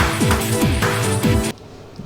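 Major boss battle music from a Mario Wii game plays loudly for about a second and a half with dense, driving, repeated descending figures, then cuts off abruptly.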